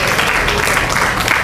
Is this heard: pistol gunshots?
no